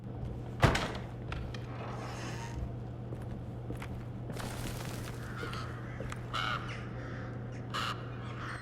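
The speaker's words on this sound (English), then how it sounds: "Damn crows." Crows caw in the horror video game Alone in the Dark, several harsh caws spaced out over a quiet, low-humming ambience, with a sharp thud near the start and faint footstep-like sounds.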